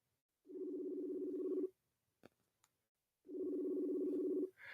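A phone call being placed from a talk-show set: two long, steady, evenly pitched ringback tones, each over a second, with a couple of short faint clicks in the gap between them.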